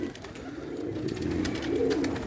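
Low, soft pigeon coos rolling in a continuous murmur, fairly close, with several birds overlapping and a faint background hiss.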